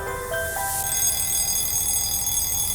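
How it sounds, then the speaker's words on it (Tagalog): An alarm clock rings loudly and steadily, a shrill electronic tone that starts with a few short beeps and then holds as a continuous bright ringing. "Yung alarm clock mo!"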